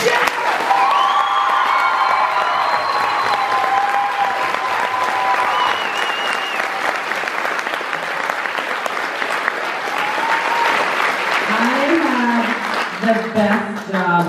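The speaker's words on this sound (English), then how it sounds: "please give her a round of applause" An audience claps and cheers at a theatre curtain call. The applause is loud and sustained, and a voice speaks over it.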